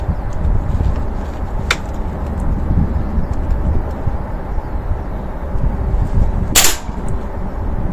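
A Beeman air rifle fired after barrel cleaning: two sharp, short cracks about five seconds apart, heard over a steady outdoor background rumble.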